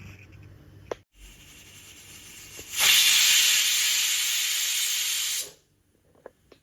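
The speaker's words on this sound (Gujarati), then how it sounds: "તો કુકરની 4 થી 5 સીટી થઈ ગઈ છે" A pressure cooker full of fada lapsi, cracked wheat cooked in water, lets out one loud, steady hiss of escaping steam lasting close to three seconds before it cuts off sharply. Faint clicks and quiet background noise come before and after.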